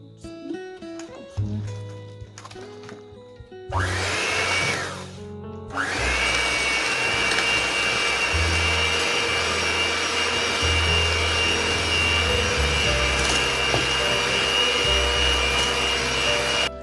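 Cheesecake batter with jackfruit and guava being mixed: a loud, steady motor whirr starts around four seconds in, stops briefly, then resumes and runs continuously without talk, after a quieter stretch of soft tonal sounds.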